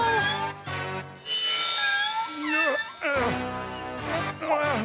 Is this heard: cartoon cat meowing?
yes